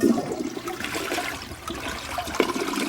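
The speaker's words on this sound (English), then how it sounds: "Everything that goes down the drain in here, or gets flushed down here" A toilet flushes in a bathroom with a loud, close rush of water that churns steadily for a few seconds, no talking over it.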